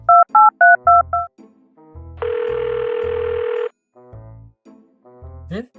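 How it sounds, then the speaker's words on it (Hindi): Electronic keypad tones beep out a phone number, followed by a long ringback-style tone, then more dialing beeps and a brief rising chirp. "एक काम करता हूँ, सुरेश को फोन लगा लेता हूँ।"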